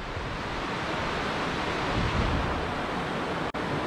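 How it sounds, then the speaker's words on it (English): White-water rapids rush out below Big Bear Dam as a steady, dense roar of churning water, loud and unbroken throughout, mixed with some wind on the microphone. "you can see white water rapids coming out of the dam"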